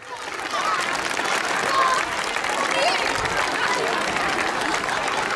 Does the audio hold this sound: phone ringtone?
no